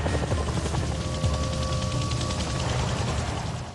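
A Chinook helicopter passes overhead near a lighthouse, its heavy rotor thumping steady and loud for several seconds, with no voices.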